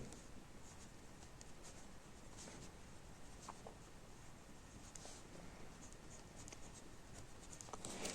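Chalk or marker scratches across a board during a geometry lesson, a soft, continuous scraping with small taps and strokes, fairly quiet and alone without talk.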